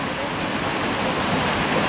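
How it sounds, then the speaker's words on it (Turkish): The Düden waterfall near Antalya pouring into the sea, a loud, dense, unbroken roar of rushing water heard close up, with a voice speaking over it. "Şelale isterseniz küçüklü büyüklü burada bir sürü şelale var."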